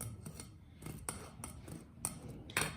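Scissors cut fabric scraps for a patchwork rag rug, rounding the corners along the edge of a plate. About seven crisp, close snips come at an irregular pace over a quiet background, with no talking.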